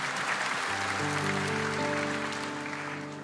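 A church congregation applauds in a broad, steady wash of clapping, while sustained keyboard chords ring through and build beneath it from about a second in.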